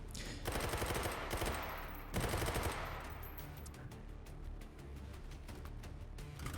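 Sustained automatic gunfire in the VR shooter Hot Dogs, Horseshoes & Hand Grenades, a dense rattling stream of shots with a few louder bursts early on, fairly faint overall and continuing to the end.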